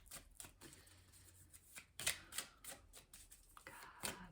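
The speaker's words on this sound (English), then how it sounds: "going to give these cards a shuffle" A deck of angel oracle cards is shuffled by hand nearby: soft riffling and repeated crisp flicks and slaps of card edges in irregular bursts, fairly quiet with no talk.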